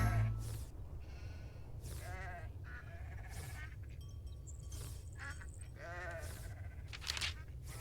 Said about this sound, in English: Hampshire sheep.